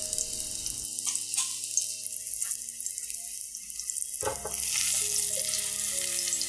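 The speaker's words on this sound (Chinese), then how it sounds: "中火起锅，跟住咧将啲姜落落去，跟住收慢个火，我哋搵慢慢爆香啲姜先" Ginger fries gently in a wok over low heat, a soft sizzle with a few scraping stirs, then the frying grows louder and fuller near the end.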